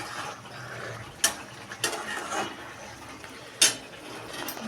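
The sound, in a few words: stirring a pot of food boiling in water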